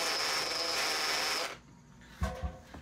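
A power drill bores a 2.5 inch hole through a wall for a mini-split heat pump line set, giving a loud, steady whining drone for about a second and a half before cutting off, followed by two dull knocks.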